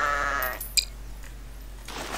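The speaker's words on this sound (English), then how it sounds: "Next up, we have a bighorn sheep." A single short bighorn sheep bleat in a Garry's Mod animals mod near the start, loud and close, followed by a quiet hiss and a faint click.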